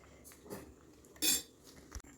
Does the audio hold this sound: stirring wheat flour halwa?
yes